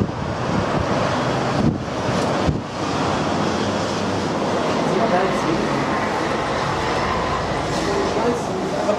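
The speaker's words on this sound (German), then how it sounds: "Hier ziemlich starke Wellen, gerade durch den Wind." Strong waves rush and break by the sea at Estoril while wind buffets the microphone, a continuous loud roar with brief dips and some talk mixed in.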